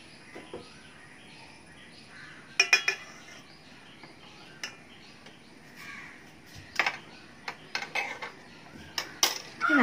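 A spoon stirring coffee mixed with condensed milk, giving sparse, bright clinks against the cup in short clusters over a quiet room. Faint crow caws sound in the distance.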